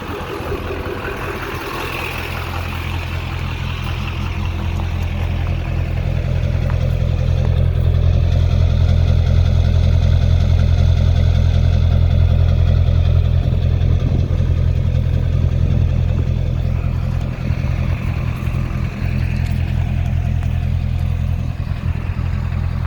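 Duramax diesel engine idling after an oil change, a loud, close, steady low rumble with slight clattering texture that holds evenly throughout.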